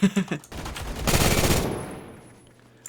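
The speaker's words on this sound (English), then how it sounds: "let's play a little bit with the MG3, because this is just absolutely insane" A burst of MG3 machine gun fire in the Roblox game Phantom Forces: a few sharp shots at the start, then a dense continuous volley that fades into a decaying tail, loud and close.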